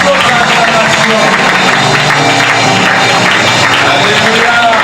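Loud, sustained applause and cheering from a church congregation, a dense wash of many hands clapping and voices acclaiming together without a break.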